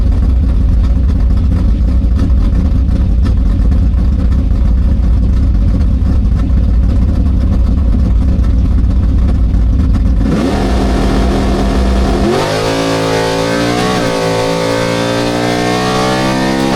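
A hot rod car engine at a race gives a loud, steady mechanical roar, then shifts into revving that climbs and falls in pitch, heard up close with no talking.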